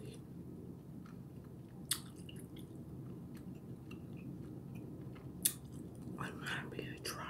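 Chewy cheese in French onion soup is eaten right at the microphone, with soft wet chewing and a couple of sharp clicks over a low hiss, and a woman whispers throughout.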